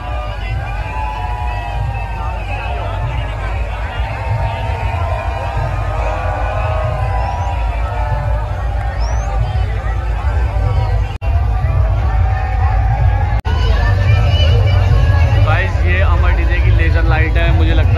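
A large, dense crowd murmurs loudly and steadily at Amar DJ's laser light testing event, a continuous hubbub of many overlapping voices with a deep rumble underneath.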